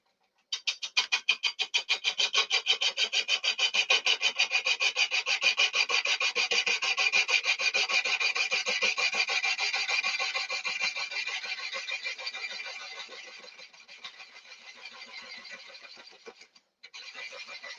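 A lathe cutting a workpiece for a multi-axis lamp, giving a steady, rapid rasping chatter that runs for about twelve seconds, then fades and tapers off with a brief stop near the end.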